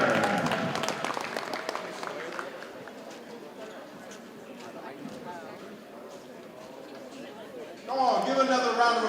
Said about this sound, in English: give another round of applause for Aaron Butler Rodriguez and his family